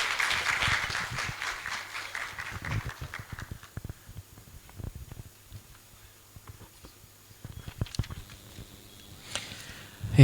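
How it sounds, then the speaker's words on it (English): Applause from the audience at a national youth symposium on public debt, loud at first and then thinning into scattered, sparse claps before a brief renewed burst near the end. "please let's give him a nice round of applause."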